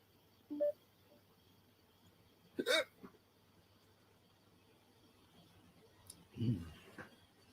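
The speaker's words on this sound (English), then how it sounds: "Had a hiccup." A person's hiccups, three short sharp isolated jolts spread across a quiet room, fairly close and alone.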